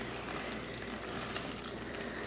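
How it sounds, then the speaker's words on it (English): Homemade all-natural baby wipe solution pours into a round lidded container holding paper towel roll, a faint, steady liquid pour with soft splashy hiss throughout and no voices. "And you're gonna pour the mixture into there."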